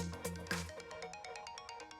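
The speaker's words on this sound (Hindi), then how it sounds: "देखा ना, वो फोन कर रहा है।" A mobile phone ringtone plays for an incoming call, a quiet repeating electronic melody of rapid tonal notes with a rhythmic pulse throughout.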